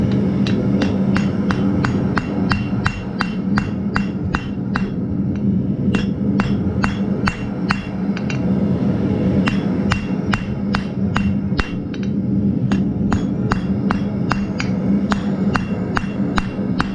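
A hammer strikes hot fluxed steel on an anvil to forge weld a seam, with sharp, ringing blows in a steady rhythm over a continuous forge roar.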